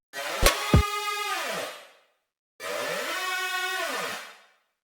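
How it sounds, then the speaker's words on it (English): Two sustained bursts of a bright, buzzy distorted saw-wave synth in a music production, each note about two seconds long and sliding down in pitch as it fades, with two short sharp hits at the start of the first. "all that really is just a distorted saw wave."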